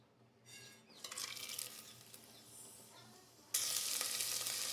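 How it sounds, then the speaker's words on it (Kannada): Onions fry in hot oil in a pressure cooker with a soft sizzle that builds, then jumps to a loud, steady crackling hiss near the end. "ಈರುಳ್ಳೆಲ್ಲ ಹಾಕ್ಕೊಂಡಿದ್ದೀನಿ. ಸ್ವಲ್ಪ ಚೆನ್ನಾಗಿ ಫ್ರೈ ಮಾಡ್ಕೊಳ್ಳಿ."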